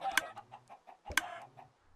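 Chickens in Minecraft give two short bursts of clucking, each a sharp peck-like click followed by a few soft clucks, close and alone without talk.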